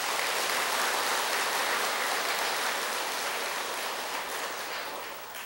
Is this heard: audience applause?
yes